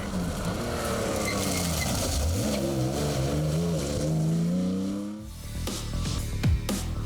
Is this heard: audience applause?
no